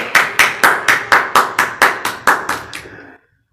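Hands clap in a regular, evenly spaced rhythm, about a dozen sharp, loud claps at a brisk beat, welcoming a guest onto a family program before stopping abruptly into silence.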